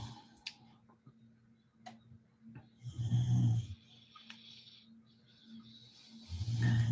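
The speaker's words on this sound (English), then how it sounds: "snoring beauty over here." Slow, rhythmic snoring from a dog nearby, two deep rumbling breaths a few seconds apart with quiet pauses and faint ticking between.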